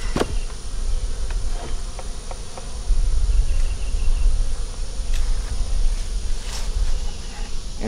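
Honeybees buzz in a dense, continuous drone at the front of a beehive, loud and close, with a few brief bees passing nearer the microphone and no speech.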